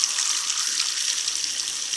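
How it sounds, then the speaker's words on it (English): Tap water runs steadily into a container, a bright continuous hissing splash with no talk over it. "Put the water on."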